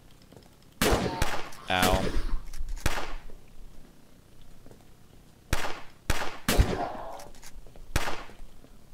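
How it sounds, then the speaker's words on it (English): Gunfire in the zombie survival video game Fort Zombie, with a burst of loud close shots followed by a string of separate sharp cracks spaced through the clip, and a brief voice exclaiming once among them. "Stop shooting at the walls, please."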